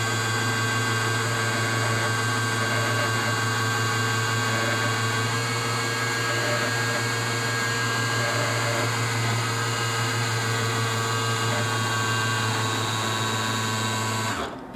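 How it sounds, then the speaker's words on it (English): A Baratza Vario coffee grinder runs steadily for about fifteen seconds, a loud, constant motor whine and grinding hum with no talking, cutting off abruptly at the end. "So we're going to activate the grinder, and we're going to set it right in the middle"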